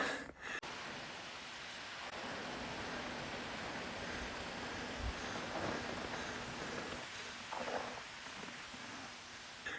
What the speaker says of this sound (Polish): rzeki szum, ptaków śpiew